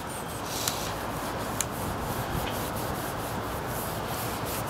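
A car wheel being rubbed clean by hand with Acrylic-Werks polish, a steady close scrubbing and rubbing noise that continues throughout, with a couple of faint clicks and no speech.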